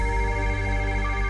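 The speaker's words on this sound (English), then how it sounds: "My phone starts ringing." A phone ringing with a steady electronic ringtone tone, loud and close, sounding continuously without pause.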